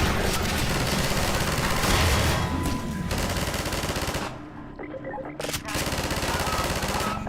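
Sustained automatic gunfire from an infinite-ammo weapon in Half-Life 2, a loud rapid stream of shots that breaks off briefly near the middle and then resumes just as hard.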